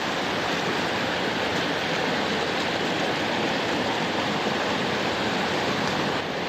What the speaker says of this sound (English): now that we're above that crazy waterfall slide looking thing